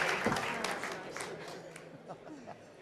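Bar show audience applause fades out under a speaking voice, scattered clapping thinning over a few seconds.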